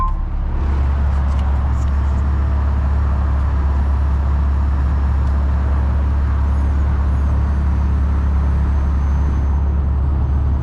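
A McLaren 720S front lift system raising the car gives a steady low hum and rumble that holds for the whole stretch without a break, with the faint whir of the hydraulic mechanism running underneath.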